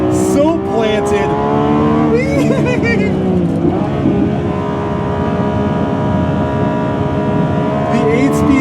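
A Lamborghini Revuelto supercar with an 8-speed dual-clutch gearbox drives fast through curves, its engine holding a loud, steady, resonant drone with brief surges and dips as it carries speed through the bends.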